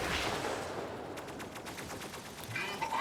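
Javelin Rack 8 weapons fire in the Mech Arena video game as a quick burst of rapid launches and impacts, moderately loud over the game's ambient noise, with no talk.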